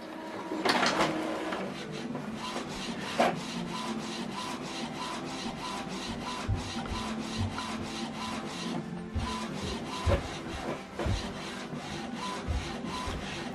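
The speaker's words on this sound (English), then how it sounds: "So it's going to print alignment head." An Epson WF-2930 inkjet printer printing a head alignment page, its print head shuttling back and forth in a rapid, regular mechanical scraping rhythm, with occasional louder clunks of the paper feed, close and steady throughout.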